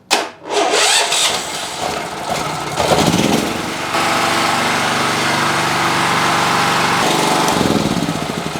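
A small gasoline generator engine, a Mollar MLR 4500 SE electric-start 3100 W unit, not a silent type, sputters to life and settles into a loud, steady running drone around 84 decibels, close by and continuous with a slight shift in pitch.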